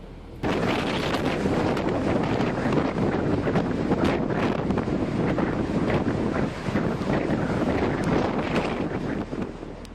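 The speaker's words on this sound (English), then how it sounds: "numerous residents nearby captured the beautiful, yet devastating tornado racing over the countryside" Roaring wind from an EF4 tornado crossing open countryside near Rochelle and Fairdale, Illinois, a loud continuous buffeting rush that batters the microphone throughout.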